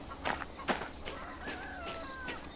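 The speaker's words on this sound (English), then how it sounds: "we can hear some cows, perhaps some chickens" Farm animals in the train simulator Derail Valley: chickens cluck and crow in short, fairly faint calls over a steady ambient bed, with no one talking.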